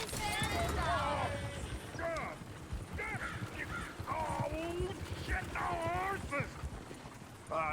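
Horse-drawn coach hooves clop in a steady rhythm through the whole span in Red Dead Redemption II, with crow-like caws and bird calls scattered over them and a voice talking throughout.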